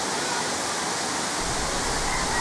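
A small waterfall and spring-fed mountain river at Balite Falls in the Philippines, a steady, dense rush of falling and flowing water, even and unbroken, close by with no voices.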